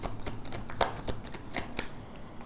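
Tarot cards being shuffled and drawn during a reading, a quick run of soft close flicks and slaps over a couple of seconds.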